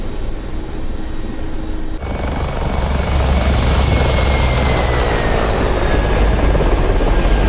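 Mi-24P Hind attack helicopter engine in the DCS flight simulator, a loud, steady, deep rotor and turbine roar with a high whine tone that jumps louder after two seconds and then holds constant.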